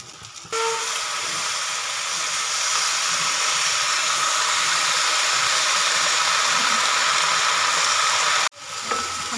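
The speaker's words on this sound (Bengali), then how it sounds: "সবজিটা ভাজা হয়ে গেছে এবার আমি দিয়ে দেবো পালং শাক" Spinach hits a pan of frying vegetables, setting off a sudden loud, steady steam hiss and sizzle that holds for several seconds before cutting off, with no voices.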